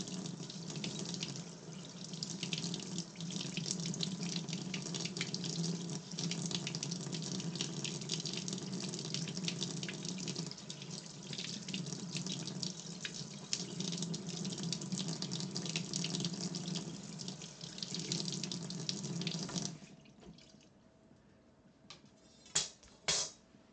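A kitchen tap runs into a sink while salt is washed off food before cooking, a steady close stream for about twenty seconds that then stops, followed by a few faint clicks and knocks.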